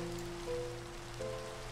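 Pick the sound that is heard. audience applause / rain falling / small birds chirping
rain falling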